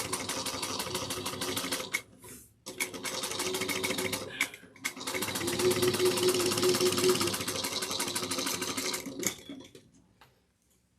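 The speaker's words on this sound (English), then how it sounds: "So I'm just going to top stitch this at 1/8 of an inch." A sewing machine top stitches a woven tote, whirring in rapid continuous runs broken by short stops, close and loud, with a voice briefly heard between passes.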